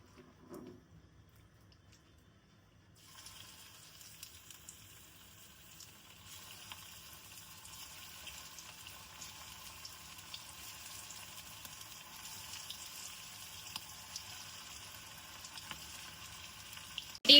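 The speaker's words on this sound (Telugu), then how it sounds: "ఇప్పుడు దీంట్లోకి చికెన్ పీసెస్ని మీడియం ఫ్లేమ్లో పెట్టుకొని డీప్ ఫ్రై చేసుకుందాం." Chicken pieces deep frying over a medium flame in hot oil for street-style cashew chicken pakodi, a steady bubbling sizzle that starts after a quiet opening and builds, growing louder and denser toward the end.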